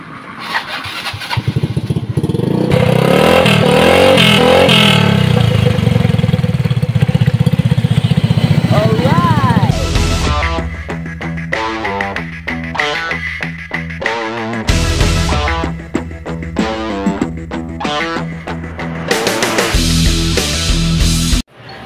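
A freshly reassembled Yamaha Mio Soulty scooter with a misfiring, hard-starting engine cranks and catches, then runs loud and close with uneven revving and idle.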